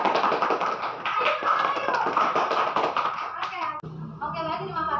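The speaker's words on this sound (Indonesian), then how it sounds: "Beri tepuk tangan untuk kalian semua." Students in a biology microteaching class clap together in a quick, uneven patter close by, with children's voices mixed in; the clapping breaks off near the end as a voice takes over.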